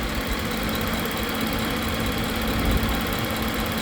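A 5.0 V8 in a Hyundai Genesis R-Spec idles steadily and smoothly, a low, even engine hum heard close up with no speech over it.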